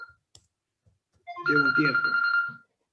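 A telephone rings nearby with a bright, sustained electronic trill lasting about a second, preceded by a few faint ticks and bumps in an otherwise quiet room.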